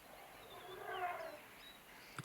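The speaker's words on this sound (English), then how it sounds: "You can hear some hyenas and wild dogs fighting in the distance." Distant hyenas and wild dogs fighting cry and snarl, rising and falling through quiet bush ambience, faint and far off, with a brief louder sound near the end.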